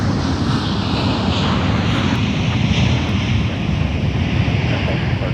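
An Aer Lingus airliner at MSP airport makes a steady broad jet roar, distant and sustained, mixed with gusty wind noise against the microphone.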